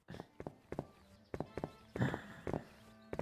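Footsteps in the video game Finnish Pub Simulator, sharp hollow clacking steps in quick pairs, loud and close, with faint background music underneath.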